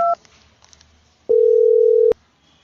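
A short beep is followed by a pause, then a steady telephone dial tone holds for under a second before stopping abruptly as a phone call is being placed.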